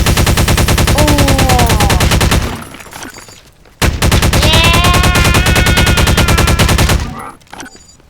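A pulse rifle in the destruction game Teardown fires rapid, loud automatic bursts with a buzzing, evenly pulsed rhythm, two long volleys separated by a short pause, with rising electronic tones over the fire.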